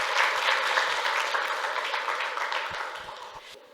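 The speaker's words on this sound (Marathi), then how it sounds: "अगदीच जोरदार टाळ्या झाल्या पाहिजे तिच्यासाठी." A college audience of students claps loudly in a dense burst of applause that starts strong and gradually fades over a few seconds, with no voices over it.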